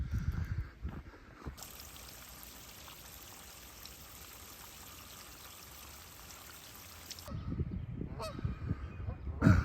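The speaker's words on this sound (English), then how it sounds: "If you can hear me over that damn goose." A goose honks loudly and repeatedly close by beside a high, rushing spring river, whose steady flowing water fills the background with a constant hiss.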